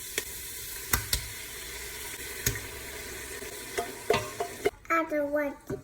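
Tomatoes hitting hot oil in a pan for tortilla soup, with onion and garlic already cooking, give a steady crackling sizzle broken by sharp utensil clicks and scrapes, and a voice chimes in near the end.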